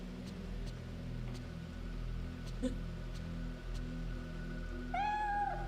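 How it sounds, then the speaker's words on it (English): A cat meows once near the end inside the Fatal Frame III video game, a short rising cry over a low, steady ambient hum with faint scattered clicks. "He went meow."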